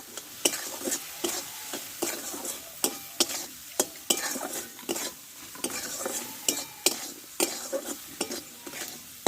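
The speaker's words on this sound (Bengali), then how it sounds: "এবার দেবো হলুদ গুঁড়ো স্বাদ মতো লবণ মশলাটাকে ভালো করে কষে নেবো" Turmeric powder and salt fry into a spice mixture in a pan for a potato and long bean vegetarian dish. A soft constant sizzle runs under frequent rhythmic clicks and scrapes of a spoon stirring against the pan.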